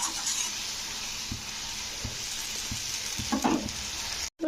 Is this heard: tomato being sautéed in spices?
yes